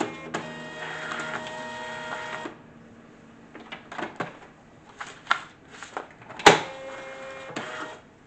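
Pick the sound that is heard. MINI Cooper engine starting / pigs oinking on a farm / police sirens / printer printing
printer printing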